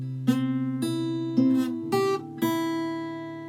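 A clean guitar plays a few notes of a song intro, each pluck ringing on into the next in a slow, deliberate pattern, close and solo without any talking.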